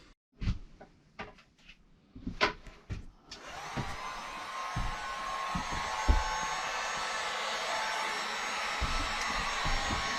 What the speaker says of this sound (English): Didn't figure you wanted your wife using a heat gun while you're trying to record.